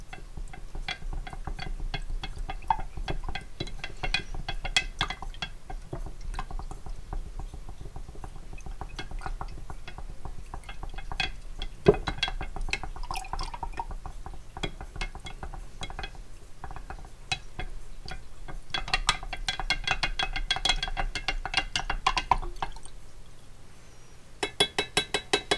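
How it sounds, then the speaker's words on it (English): Fire cider is stirred with metal toaster tongs in a jar or pot: soft clinks and scraping taps recur at close range over a low steady background, with a burst of busier clinking near the end. "Use my toaster tongs and stir this up really good."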